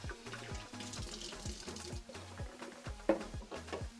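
Tap water runs into a cooking pot as it is rinsed at a kitchen sink during preparation of an oil-free, meatless Nigerian stew, a steady close splashing flow with a few brief clanks, no talking.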